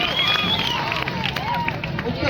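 At a kabaddi quarterfinal match, a large crowd keeps up a steady roar of clapping and cheering, with an announcer's voice carrying over the dense, continuous noise.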